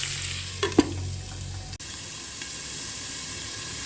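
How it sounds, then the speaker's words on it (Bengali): Onion frying in a pan for a poppy-seed dish, a steady soft sizzle running through with a couple of brief stirring clatters early on, then a quieter, even hiss after a lid-like clunk. "খুব ভালো করে লাল লাল করে পেঁয়াজটা ভাজবো।"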